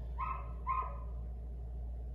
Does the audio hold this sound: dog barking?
yes